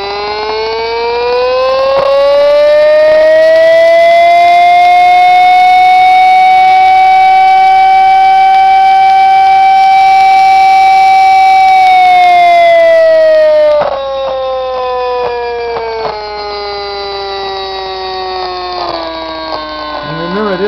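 A high-speed ball magnet Bedini motor, running with the wrong, non-neodymium magnet, revs up into a loud, steady whining scream that rises and holds, then its pitch wavers and drops, continuous and close throughout.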